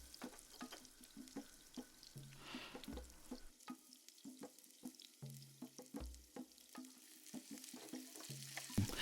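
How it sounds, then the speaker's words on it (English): Garlic, ginger and onion sizzle in hot oil in a pan, with a soft continuous fry and repeated clinks and scrapes of stirring, fairly quiet and with no talking. "garlic, ginger and onion into the oil to get them slightly cooked, or should I say fry since we are using oil here"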